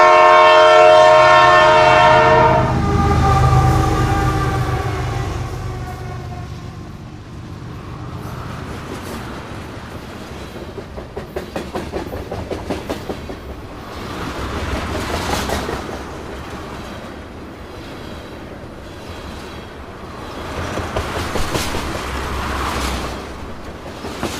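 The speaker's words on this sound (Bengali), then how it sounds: "আমাদের ট্রেন কিন্তু ছেড়ে দিয়েছে সীতাকুণ্ডুর উদ্দেশ্যে" A passenger train's horn blares loudly at the start, then the train rolls on at night toward Sitakunda with rhythmic clickety-clack and rumbling wheels, the sound rising and falling as it runs.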